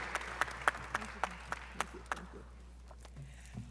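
Scattered claps from a conference audience at a Braintrust panel, about ten sharp, fairly evenly spaced hits over two seconds, then fading into quiet room noise.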